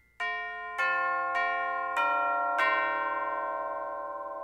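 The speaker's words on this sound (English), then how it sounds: "And chimes." Orchestral chimes, tubular bells of a symphony orchestra's percussion section, struck five times in a slow sequence of different pitches, each bright metallic strike ringing on and overlapping the next, close and clear with no talking.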